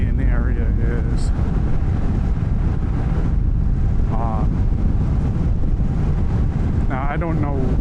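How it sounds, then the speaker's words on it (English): Heavy, turbulent wind buffeting the rider's position on a Honda Rebel 1100 motorcycle cruising at about 41 mph, a loud, constant roar with ragged gusts. Someone speaks under it. "there is some turbulent wind down here"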